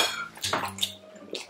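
Water splashes and clatters into a cooking pot in a home kitchen, a few short uneven bursts of pouring and metallic knocks close by, with no talking.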